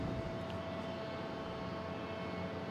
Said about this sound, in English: There's that retro JetBlue heading out.